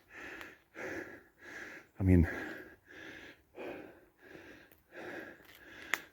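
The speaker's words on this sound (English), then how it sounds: "excuse the heavy breathing." A walker near Dover breathes heavily after a steep climb, taking rhythmic, close, loud puffing breaths about once per second, with a brief spoken remark in the middle.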